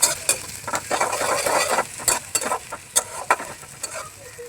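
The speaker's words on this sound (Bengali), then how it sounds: "দিয়ে এখন ভালো মতো নাড়াচাড়া করে ব্রাউন কালার করে ভেজে নিব পেঁয়াজটা।" Chopped onion and green chilli frying in hot oil, with a steady sizzle and repeated scraping knocks of a spatula stirring them around the pan, close and without talk.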